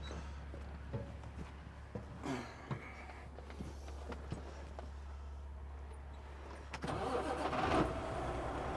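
Truck engine starting: quiet clicks and knocks give way to a cranking burst near the end, then a steady low idle rumble, heard fairly close with no voices.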